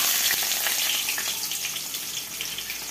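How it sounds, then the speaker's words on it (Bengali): Onion frying in a pan for a Bengali home-cooked meat dish gives a dense, steady sizzle with faint crackles throughout, close by, without voices. "পেঁয়াজটাকে একটু লাল করে ভেজে পেস্ট করে নেব"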